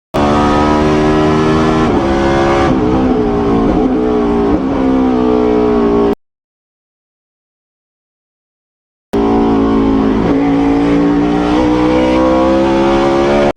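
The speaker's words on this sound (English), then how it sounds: "Now here's footage from Jimmie Johnson's test the next year, and it'll kind of give you an idea of how fast Brad may have been going when heading into Turn 1" A race car during test laps at Road Atlanta speeds into Turn 1, its engine a loud, sustained high-revving roar that holds steady for about six seconds, breaks off into silence, then roars back just as loud.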